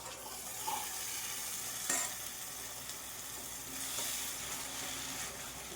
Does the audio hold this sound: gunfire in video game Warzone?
no